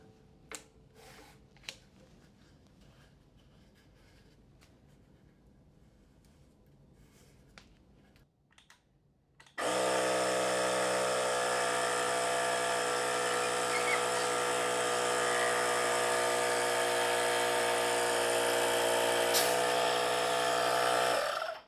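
Compressed air blowing a rubber golf grip back onto a club shaft: after quiet handling clicks, a loud continuous high hiss with a steady whine bursts in and holds for about twelve seconds.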